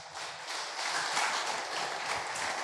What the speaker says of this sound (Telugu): అందరం చప్పట్లు కూడా దేవుని స్తుతిస్తారా?